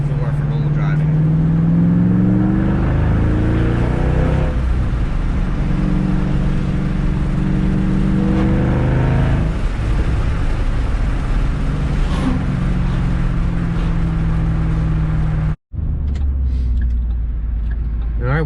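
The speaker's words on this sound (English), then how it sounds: "I'll wind it out a little bit once we get on the more of a straightaway here" A Shelby GT500 with a Borla Atak exhaust accelerates hard from inside the cabin. The engine note climbs repeatedly, with gear shifts between the rising pulls, loud and close throughout.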